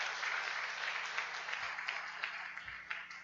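A crowd at a church service applauds with continuous, dense clapping, somewhat muffled and steady, with a low electrical hum beneath it.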